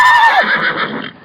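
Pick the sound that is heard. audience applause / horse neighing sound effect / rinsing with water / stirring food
horse neighing sound effect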